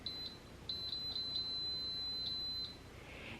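An Elechomes air fryer gives a series of short, high electronic beeps, a few quick ones then one held tone, as its temperature is set; close and clear over faint room noise.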